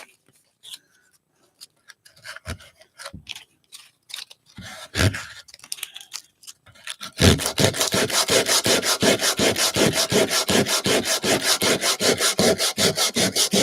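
Sandpaper is rubbed over a wooden Christmas sled in fast, even back-and-forth strokes, a close, gritty scratching that keeps a steady rhythm. It follows a stretch of scattered knocks and handling noises.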